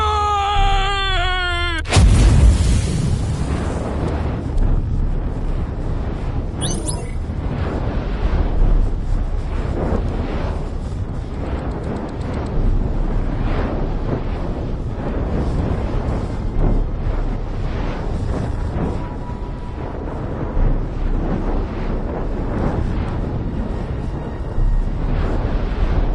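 Fire roaring in the video game AI: The Somnium Files – nirvanA Initiative: a loud, steady broadband rush that fills the whole stretch, with a sharp burst near the start and no talk over it.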